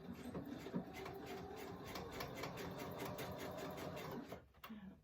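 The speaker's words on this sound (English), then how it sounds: "I'm going to sew it all the way around." A sewing machine runs steadily, stitching around the edge of a fabric composition book cover. The whir is continuous and close for about four seconds, then stops briefly and restarts.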